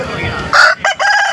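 Rooster crowing at a Sunday hen market in Piler, one loud close crow broken into several rising and falling segments.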